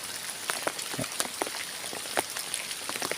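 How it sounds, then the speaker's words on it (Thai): Rain falls steadily on a rural sugarcane farm in Suphan Buri, a close, even patter of drops with scattered sharper hits and no voices. "ฝนตกแบบนี้มันก็จะเป็นอีกอารมณ์หนึ่ง"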